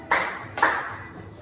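Two sharp hand claps land about half a second apart during the Malay children's song about clapping when happy, with a fainter third tap trailing after; no singing rides over them.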